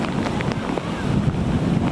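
Strong gusts from Typhoon Paolo batter the microphone, a loud, continuous roar of wind rushing with no pause throughout.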